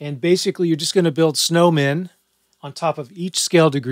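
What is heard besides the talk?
No distinct noise like a dog, phone or traffic.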